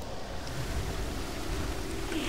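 Steady water ambience in a World of Warcraft dungeon, the Temple of the Jade Serpent, a continuous wash of lapping, surf-like water filling the scene at moderate level without any talk.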